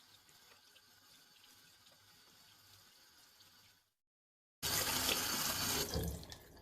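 Running tap water pours over a washing machine detergent drawer being rinsed at a sink, a steady splashing flow that cuts out briefly, then returns much louder and fuller.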